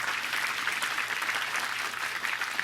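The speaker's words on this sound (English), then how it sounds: "can I get a round of applause from the tech crew?" Applause from a tech crew and audience at a Windows Admin Center talk, a dense, even stretch of clapping that holds strong and steady from start to finish.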